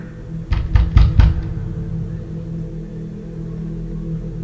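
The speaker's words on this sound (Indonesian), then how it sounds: "tiba-tiba saja ada suara ketukan pintu dari luar rumah" Four sharp knocks on a door come in quick succession near the start, loud and close, then fade into a quiet hum, used as a horror story sound effect.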